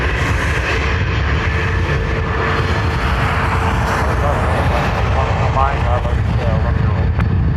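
An Airbus A320neo airliner inbound from Heathrow roars loudly at Dublin Airport on runway 10R, a dense, continuous broadband jet noise that swells slightly across the stretch.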